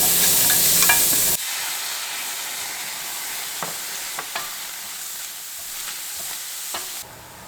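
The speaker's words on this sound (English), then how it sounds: "So our pan is nice and hot. I'm just going to go ahead and add those onions." Onions added to a hot pan for a vegan dinner, starting with a loud burst of sizzle that settles into a steady, continuous frying hiss with a few soft clicks of stirring, close and alone.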